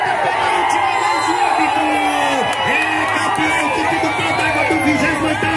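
Amateur football fans at the final of the Pedra Branca championship cheer and shout as a dense, loud crowd roar, voices overlapping throughout.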